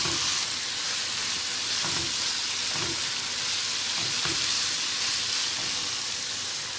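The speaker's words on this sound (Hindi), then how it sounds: "इसका ऑयल रिलीज़ होने तक इसे भून रही हूँ बस।" Minced meat keema frying in oil with crushed black pepper, a continuous close sizzle broken by several scraping stirs of a spoon against the pan.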